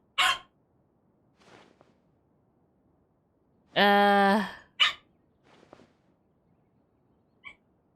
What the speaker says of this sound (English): Our dogs are currently going crazy because there's one that's currently on her time of the month